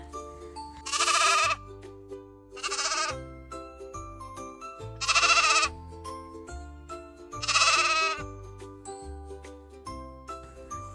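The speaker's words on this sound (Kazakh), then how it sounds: "Ешкі маңырайды." A goat bleats four times at even intervals, each cry loud and drawn out, set over light music with a tinkling tune in an educational animal-sounds piece for children.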